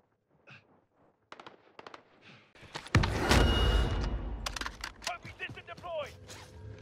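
M4 rifle fire in the video game Call of Duty Warzone starts with a few scattered clicks and shots, then breaks into a loud, sustained burst of rapid automatic gunfire with sharp cracks near the end.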